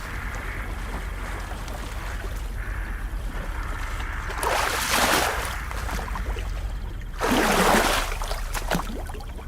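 A boat is rowed across marsh water, with a steady low wash and two louder swells of splashing from the oar strokes, no voices.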